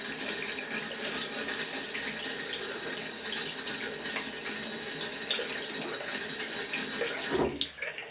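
A tap runs in a steady, hissing stream while a makeup brush is rinsed beneath it, close and continuous, with a brief splash near the end and no voices.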